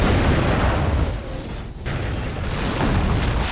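Pyrotechnic blast in a film stunt destroying an RV, a dense roaring, rumbling explosion sustained throughout with a short dip midway before swelling again.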